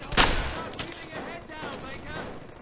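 A sharp, loud gunshot cracks close by in the World War II shooter Brothers in Arms: Hell's Highway, followed by a few fainter shots and battle noise over a steady background.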